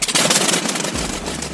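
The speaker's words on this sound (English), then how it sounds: "The Pratt & Whitney R4360 Wasp Major, the ultimate evolution of piston power." A Pratt & Whitney R-4360 Wasp Major, the 28-cylinder, 71.5-liter air-cooled radial piston engine rated at 4,300 horsepower, runs loud and steady, a dense continuous roar with a rough pulsing texture and no voices.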